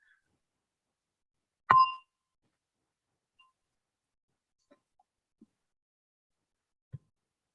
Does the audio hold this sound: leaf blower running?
no